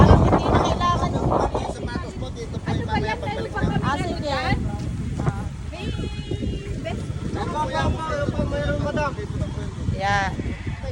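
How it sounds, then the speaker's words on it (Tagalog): Strong wind buffets the microphone throughout a boat ride at Puerto Galera, a constant loud roar with gusts, while people talk over it. "Malakas ang hangin."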